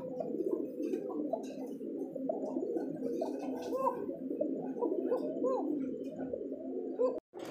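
Bombay pigeons in two colours coo continuously at a large pigeon farm in Bangladesh, a dense chorus of soft, overlapping throaty calls that stops briefly near the end.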